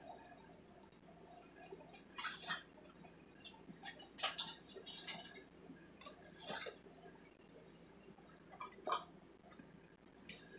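Metal cutlery clatters and clinks in short bursts as a knife is fished out of a utensil drawer in an RV kitchen, the rattles coming close and fairly loud with quiet gaps between them.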